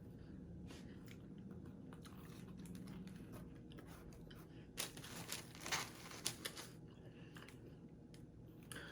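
Close, quiet chewing of Papa Gino's pizza cut into squares, with soft wet bites and a few louder crunchy spikes toward the end, no voices over it.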